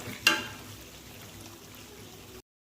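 Garlic, roasted gram, curry leaves, cumin and mustard seeds fry in hot oil for a savoury puffed-rice snack, a close steady sizzle with a sharp crackle at the start, ending abruptly in silence.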